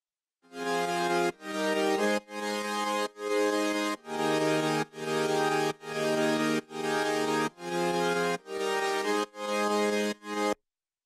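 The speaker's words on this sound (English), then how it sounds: "it's a pure saw wave" Pure saw wave synth, the main layer of a stacked keyboard patch in a Bollywood ballad production, playing about a dozen sustained chord notes in a steady rhythm, bright and buzzy with rich harmonics, loud and alone.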